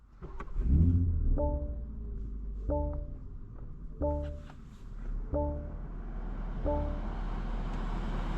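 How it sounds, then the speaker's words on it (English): A 2026 BMW M240i xDrive with a 3-liter turbocharged inline six rolls along with a low steady engine hum and road rumble, punctuated by a series of evenly spaced short tonal chimes, no talking. "Today we're going for a drive in this 2026 BMW M240i xDrive."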